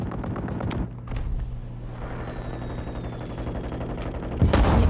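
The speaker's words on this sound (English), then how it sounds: "I'm just shooting randomly." Dense bursts of automatic gunfire fill a Warzone video game firefight, with steady rapid popping through most of the stretch and a louder cluster of shots near the end.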